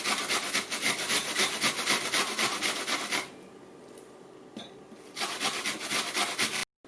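Onion shredded on a box grater for paleo, gluten-free sweet potato latkes: steady rapid rasping strokes, close and fairly loud, pausing briefly midway before resuming.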